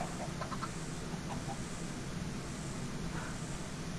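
Minecraft chickens cluck in short, soft bursts over a steady game ambience, a few scattered calls spread across the scene with no talking.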